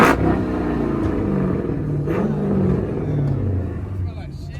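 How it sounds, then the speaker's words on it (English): A car at a crowded car meet, its engine rumbling and revving in a low, fluctuating drone that swells and eases over several seconds, with people talking nearby. "rev it, rev it, rev it."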